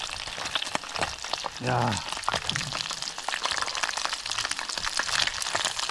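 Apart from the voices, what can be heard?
smelt fish deep-frying in oil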